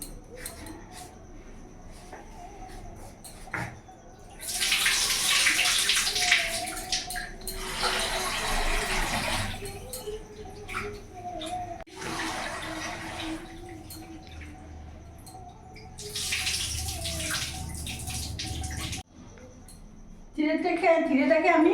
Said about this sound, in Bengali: প্রথমে চিড়েটাকে আমি ভালো করে ধুয়ে নেব।